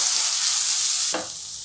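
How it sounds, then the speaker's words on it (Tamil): Onion and ginger paste fries in a hot pan with a loud, steady sizzle that dips after a second as the paste is stirred, close up with no voices. "வெங்காயம் இஞ்சி பேஸ்ட்டாக சேர்த்துடலாம். இது நல்லா செவக்கிற அளவுக்கு வறுத்துடலாம்."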